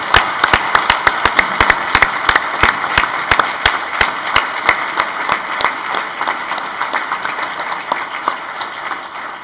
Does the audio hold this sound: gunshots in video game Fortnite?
no